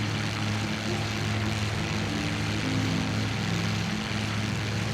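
A P-51 Mustang propeller fighter in flight in the IL-2 Sturmovik game, a steady, droning engine roar with a throbbing low hum that holds constant throughout and has no talk over it.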